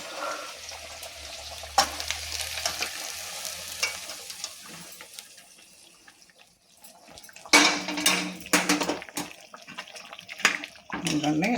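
Stuffed ivy gourds dropped into hot oil in a pan, a soft continuous frying hiss with clattering and scraping of a utensil that grows louder and busier in the second half.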